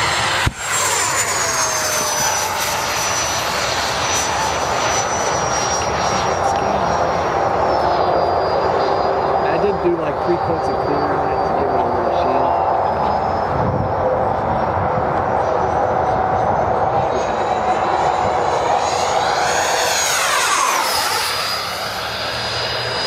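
A modified Blue Angels RC jet flying at half throttle, a loud continuous whining roar that holds steady, then swells and shifts in pitch as it passes near the end.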